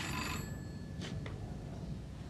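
A telephone rings indoors in a Hindi TV comedy scene, with a bright ringing burst at the start and two shorter rings following, moderately loud against a steady background.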